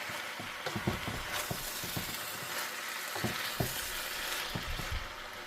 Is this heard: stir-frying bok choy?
yes